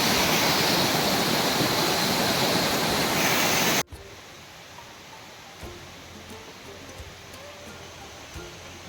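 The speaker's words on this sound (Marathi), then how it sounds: "आता ब्राह्मणदेव धबधबा एका खाली आहे" Brahmandev waterfall in Maharashtra pours with a loud, steady rushing roar for several seconds, then cuts abruptly to a much quieter outdoor ambience with faint scattered sounds.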